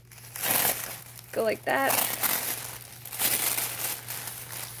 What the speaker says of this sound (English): It's sort of like a tissue paper, so I can just